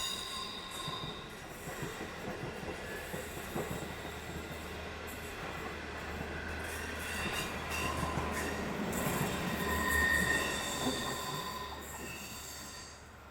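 An Australian passenger train, the Great Southern, rumbles steadily along the rails, wheels clattering and occasionally squealing, the roar swelling slightly as it passes close by.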